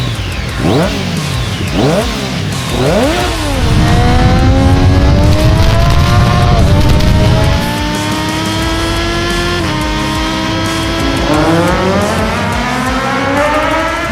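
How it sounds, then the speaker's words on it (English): A Triumph Daytona 675 motorcycle roars nearby, its exhaust note climbing through repeated rising revs and gear changes, loud and continuous with a raspy, high-pitched wail and no talking. "Listen to the exhaust note."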